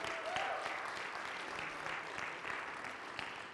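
A church congregation claps during a sermon, soft and fairly distant, a steady patter of many hands sustained under a background hum.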